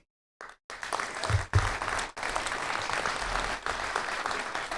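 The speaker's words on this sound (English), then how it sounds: "those of us who are here, in a round of applause to WFSU" Audience applause at a Tallahassee town hall panel discussion, starting after a short silence and continuing as a steady wash of clapping, moderately loud, with no talk over it.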